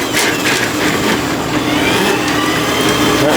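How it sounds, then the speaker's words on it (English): A drain snake machine whirs steadily as it spins its cable back out of a clogged hand sink at a fast food restaurant. The loud, continuous motor drone carries a rough, grinding texture. "Keep spinning, but pull it out and feed it into the machine."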